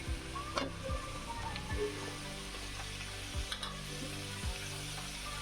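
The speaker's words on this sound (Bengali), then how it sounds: "এখন আমি বাঁধাকপি আর ক্যাপসিকাম দিয়ে দিলাম" Cabbage and capsicum stir-frying in a hot pan for chow mein, a continuous soft sizzle with several spaced metallic scrapes and taps of the spatula, quiet and close with no voices.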